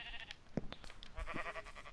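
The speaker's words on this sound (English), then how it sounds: "we're gonna have to go hunting for some sheep" Sheep bleating in Minecraft survival, with a short bleat near the start and another fainter one soon after, over a low game ambience.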